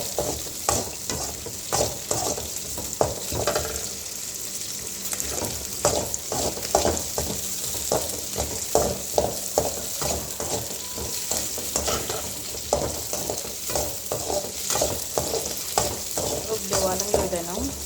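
Chopped onions and green chilies sautéing in oil in a pan, a continuous sizzle broken by repeated scraping and stirring strokes, close and fairly loud.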